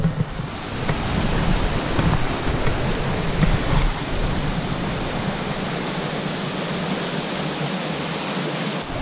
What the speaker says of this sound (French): Voilà, je suis arrivé à la cascade.